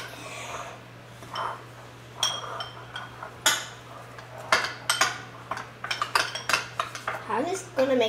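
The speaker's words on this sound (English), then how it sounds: "Everyone's mixing up the ranch dip." Several people mixing unicorn ranch dip in four bowls, with utensils clinking and scraping against the bowls in quickening bursts, close and moderately loud.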